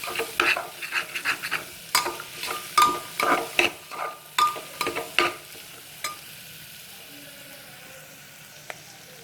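Betel leaves and coriander sauté in a pan as a spoon scrapes and stirs in quick repeated strokes over a soft sizzle, the stirring fading out to a quieter simmer in the last few seconds, up close and without speech.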